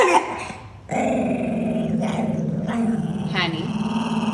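A dog growls steadily while eating food, a close, continuous low rumble with a short break early on and rising snarling surges toward the end.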